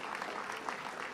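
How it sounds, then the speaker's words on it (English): Audience applause for a performance by the Black Bear Tribal Group at the Department of the Interior, a steady, moderately loud wash of clapping from a crowd that continues evenly through the whole moment. "We have to give them another round of applause"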